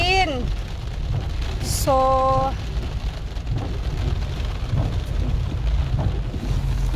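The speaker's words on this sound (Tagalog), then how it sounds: "grabe yung lakas ng ulan as in." Heavy rain pours down steadily in a dense, unbroken hiss and patter. A brief voice and a few chirps sit over the constant downpour.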